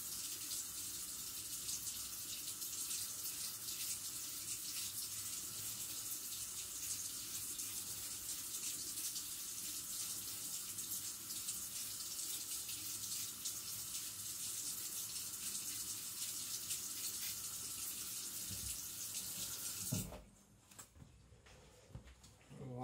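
Water runs steadily from a tap for about twenty seconds over a sponge used for sharpening carbon steel blades, then stops abruptly near the end.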